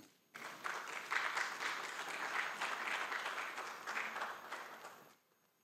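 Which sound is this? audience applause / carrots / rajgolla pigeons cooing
audience applause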